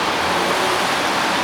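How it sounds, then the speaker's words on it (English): Cars passing close by on a road, a loud steady wash of broadband traffic noise with no clear gaps or distinct vehicles standing out. "There are cars around, we need to be careful."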